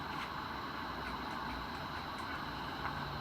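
A 56-inch Dayton industrial ceiling fan spins at high speed, over 300 RPM, giving a steady, even rush of moving air with a low hum that stays constant throughout.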